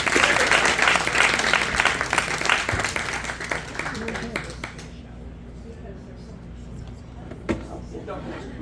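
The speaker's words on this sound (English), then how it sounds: "Round of applause." Audience at a storytelling slam show applauding loudly for several seconds, the clapping fading out midway and leaving a quiet room with low murmurs and a single sharp knock.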